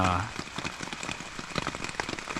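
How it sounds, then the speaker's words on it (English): Rain falls steadily on a campsite along the Appalachian Trail, a dense patter of drops on a tent or nearby surfaces, close and continuous, with a brief faint voice at the very start. "hopefully the rain will have stopped in the morning"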